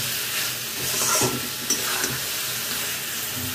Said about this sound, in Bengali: এর মধ্যে আলুগুলো দিয়ে দেবো, মশলার সঙ্গে আলুটাও ভালো করে মিশিয়ে নেবো একটু।